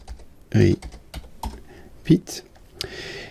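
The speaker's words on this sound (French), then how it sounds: "Donc je tape ng-repeat." Scattered keystrokes on a computer keyboard while typing an AngularJS ng-repeat directive in a code editor, a few close clicks mixed with brief voice fragments.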